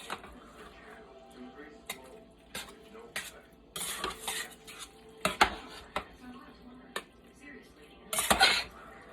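A spoon stirs a Johnny Marzetti casserole in a stainless steel skillet, giving close metallic scrapes and clinks at irregular intervals over a faint sizzle, with some talking in the background.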